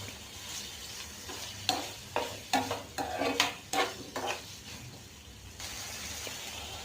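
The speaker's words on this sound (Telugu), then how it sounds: "ఇప్పుడు ఉప్పు పసుపు కూడా వేసి చక్కగా కలుపుకుంటున్నాను ఫ్రెండ్స్." Ridge gourd with garlic, salt and turmeric fries in a pan under a steady soft sizzle, while a spatula stirs it with a series of scraping knocks in the middle, close and fairly quiet.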